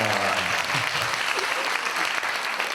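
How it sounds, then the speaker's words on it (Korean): A television talk show studio audience breaks into dense, loud applause that fills the whole moment, with some voices faintly mixed in at the start. "박수 한번 주세요"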